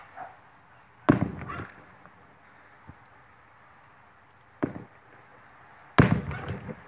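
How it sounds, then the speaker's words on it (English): Three loud fireworks bursts boom at intervals against a quiet night background over Lake Elsinore, each with a crackling tail, plus a faint pop between them. "I'm getting some fireworks"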